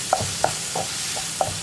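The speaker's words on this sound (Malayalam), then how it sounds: "തക്കാളിയും ചേർത്ത് നന്നായിട്ടൊന്ന് ഇളക്കി മിക്സ് ചെയ്യുക." Tomatoes being stirred into spices in a pan for egg curry: a spoon taps and scrapes against the pan about five times over a low sizzle, close and fairly loud.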